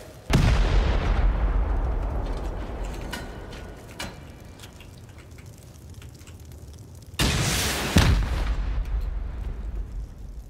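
Explosives blast through a wall in a looting video game, a heavy boom near the start that rumbles down, then a second loud blast about seven seconds later with lingering debris noise.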